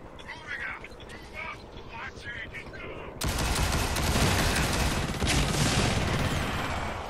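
Pistol fire in the shooter game Blacklight Tango Down: rapid bursts of shots crackle loudly in the second half after a stretch of quieter game sounds, with someone talking over it.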